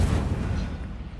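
An Incendio fire spell is cast during a duel in the Hogwarts Legacy video game: a single loud, booming whoosh of flame that fills the moment and fades within about a second.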